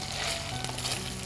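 Ginger-garlic paste with a pinch of salt sizzles steadily in hot oil in a pan. The frying is close, loud and continuous, with no voices.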